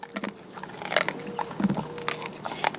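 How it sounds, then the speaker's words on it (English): Pet crunching and chewing hard crunchy treats up close inside a van, with a run of irregular crisp bites and crackles at a moderate level. "Good crunch. Those are good crunchies."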